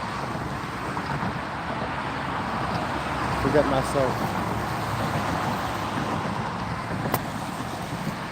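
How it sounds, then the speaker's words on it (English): Steady car traffic roar near an outdoor hiking spot, a continuous broad wash of road noise under a person's speech. "Actually, with all the car noise, I'll just hang out for one moment."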